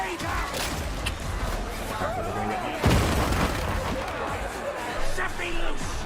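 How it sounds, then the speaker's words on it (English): A grenade detonates in the video game Warhammer 40,000: Darktide, one loud close blast with a deep rumbling tail amid ongoing combat noise, with a voice and other chatter in the mix. "Grenade out!"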